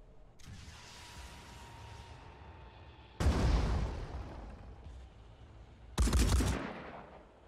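Grenade blasts in the tactical game Phoenix Point hit as two sharp, booming bursts a few seconds apart, each decaying into a rumbling tail over a quieter background hum.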